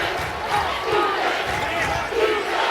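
The Belmont crowd at a college basketball game against Drake roars in a broad, sustained cheer filling the arena, with a commentator talking over it.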